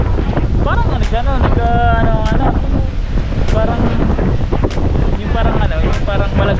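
Wind gusting on a beach buffets the microphone in a steady, loud rumble, with people talking over it throughout.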